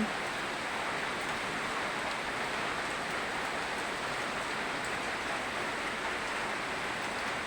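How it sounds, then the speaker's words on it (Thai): Steady rain falls outside a house, a dense, even hiss that stays constant and fairly faint throughout, with no voices. "มาเบิ่ง สาย ฝน"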